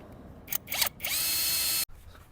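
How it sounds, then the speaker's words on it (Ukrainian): A power driver screwing in bolts on a Forte FG4500IE inverter generator whirs in short bursts, then runs steadily for about a second before stopping abruptly, close by with a quiet room behind. "Закручуємо останні два болти."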